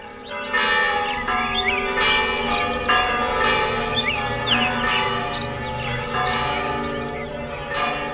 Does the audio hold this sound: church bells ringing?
yes